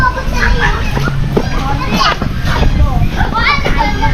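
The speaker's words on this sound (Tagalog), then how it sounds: "nandito sa silong naglalaro yung mga bata" Children play and chatter in the space beneath a raised house on a rural farm after days of rain, their voices and high shouts continuous and fairly close, with bumps and knocks mixed in.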